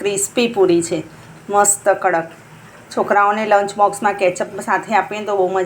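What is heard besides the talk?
No everyday noise stands out behind the speech.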